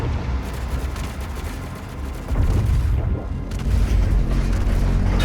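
The BFG 10,000 fires in Doom, a heavy booming blast with sustained deep rumble and rolling low-end roar that swells loudly midway and persists, without talking.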